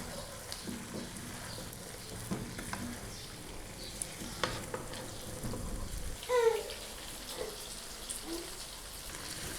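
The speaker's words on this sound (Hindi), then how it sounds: "अब हम इसमें आलू शामिल कर लेंगे। इसको हम 3 से 4 मिनट तक भूनेंगे।" Potato chunks frying and being stirred into a masala gravy for aloo gosht, with a steady crackling sizzle and scraping stirs across the pan, a few louder knocks, and no talking.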